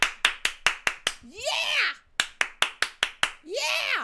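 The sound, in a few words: audience clapping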